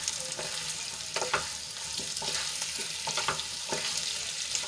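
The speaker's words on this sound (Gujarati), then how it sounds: "અને વઘારમાં સરસ રીતે મિક્સ કરી લઈશું" Potatoes are stirred through a sizzling tempering in a pan, with a constant frying hiss beneath them. Repeated spoon scrapes and clinks against the pan come at an irregular pace, close and clear.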